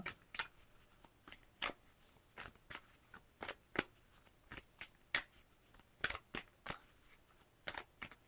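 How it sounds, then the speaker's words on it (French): Oracle cards from the Envolée sauvage deck are riffled and slid together in quick, repeated bursts of soft papery flicks, close and fairly quiet, steady throughout with no talking. "on termine la guidance avec une petite carte issue de l'oracle Envolée sauvage."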